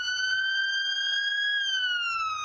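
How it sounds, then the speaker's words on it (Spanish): An ambulance siren holds one steady, loud wailing tone, then its pitch slides downward near the end as it passes and moves away. "cuando pasa junto a nosotros y se aleja, la longitud de onda se expande y el tono de la sirena va bajando a medida que la ambulancia se aleja en la distancia"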